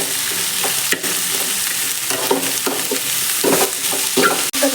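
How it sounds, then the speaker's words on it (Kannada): Carrot and capsicum sizzle steadily in hot oil as a spoon stirs through the pan, with occasional scrapes and clinks over the constant frying hiss. "ಎಣ್ಣೆಲಿ ಎಲ್ಲ ಚೆನ್ನಾಗಿ ಫ್ರೈ ಆಗ್ತಾ ಇದೆ"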